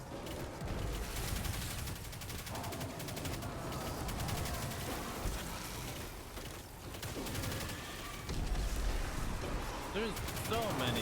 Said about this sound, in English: There's so many explosions happening.